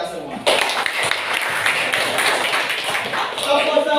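A group clapping their hands in a classroom, a dense, steady patter of many claps that starts abruptly and continues at an even level with voices mixed in.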